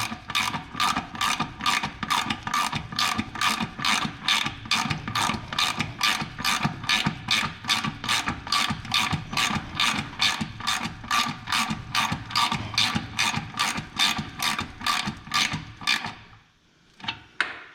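A ratchet tightens the cover bolts on a Suzuki LTZ 400 ATV in quick, even clicks. The clicking runs steadily for about sixteen seconds, then stops, leaving a near-quiet tail.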